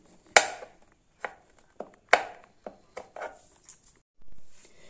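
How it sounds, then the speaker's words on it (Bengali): A knife chopping cashew nuts and raisins into small pieces on a board: about eight sharp, uneven cuts, close and crisp, separated by short pauses. "এবার কাজু বাদামগুলোকে খুব ছোট ছোট করে কেটে নেব, কিশমিশ গুলোকেও খুব ছোট ছোট করে কেটে নেব।"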